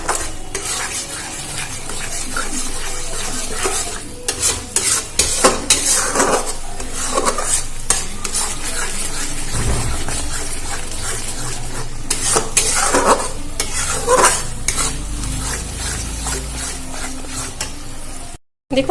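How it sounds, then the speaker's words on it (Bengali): Kasuri methi and spice paste frying in a pan while being stirred, with continuous sizzling and repeated scraping and clinking of a utensil against the pan, close and steady throughout. "এবারে এটা ভালো করে নাড়াচাড়া করে ভেজে নেব।"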